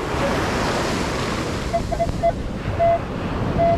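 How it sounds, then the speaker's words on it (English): Ocean waves roll in on a beach at low tide, a loud continuous wash of surf with wind buffeting the microphone and a few faint high beeps over the top. "Just the rate of the waves coming in."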